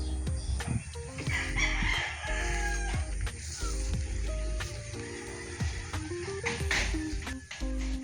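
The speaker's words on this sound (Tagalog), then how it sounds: "meron po yung mga manok sa loob" Roosters crow repeatedly from a chicken breeding yard, several birds overlapping in drawn-out cock-a-doodle-doos at varying distances, with clucking hens and low background rumble throughout.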